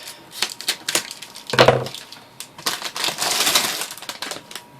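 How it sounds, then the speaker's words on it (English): Crinkly plastic rustles and crackles up close in irregular bursts, with sharp snaps and a longer crumpling stretch near the end. "Excuse the crinkle noise."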